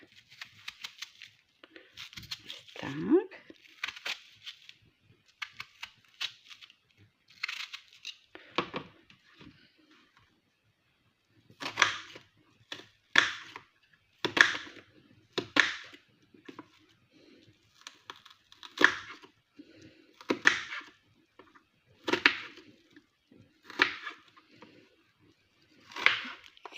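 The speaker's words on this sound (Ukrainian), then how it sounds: "цибулину я поріжу дрібними кубиками" A knife chops an onion into small cubes on a board, making a run of sharp, close taps in irregular bursts with short pauses, quiet between strokes and no voices.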